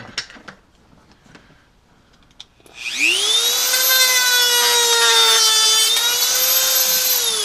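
A power tool trims a Hasbro Black Series Kylo Ren helmet being modified into a Disney mask: a few soft handling clicks, then a loud, close, high whine spins up and runs steadily to the end.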